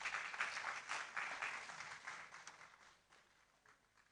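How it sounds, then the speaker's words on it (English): Audience applause fills a lecture hall at a university inaugural lecture, a dense wash of clapping that stays loud for a few seconds and then thins and fades toward the end. "Let's welcome them with a round of applause."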